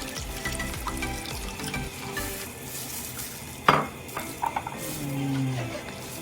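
Cream pours into a sizzling green peppercorn and mustard pan sauce, a close, steady frying hiss with a sudden louder burst partway through and a few clinks of utensils against the pan.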